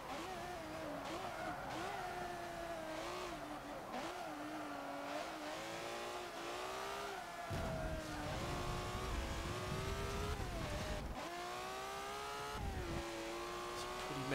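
GT race cars in Forza Motorsport 7 whine through the gears with rising and falling engine pitch, sharp drops on hard braking into corners, and a constant steady engine drone throughout.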